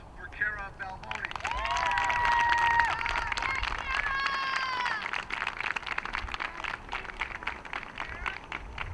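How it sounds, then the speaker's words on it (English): Crowd at a high school softball senior night applauding a senior player on the field as her parents join her, sustained clapping and cheering with voices and whistles mixed in, fairly loud and steady throughout. "Let's have a round of applause for Cara Balboni."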